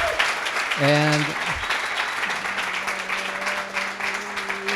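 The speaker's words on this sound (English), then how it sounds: "I want a round of applause." An audience applauds at a coding bootcamp demo day in Montreal, steady clapping that runs the whole time while someone speaks over it and a held tone drones underneath.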